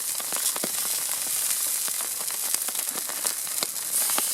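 Haggis and black pudding sizzling on a thick slab of hot slate over an Ecozoom rocket stove outdoors, a steady bright frying crackle with frequent sharp pops, close and loud with no talk.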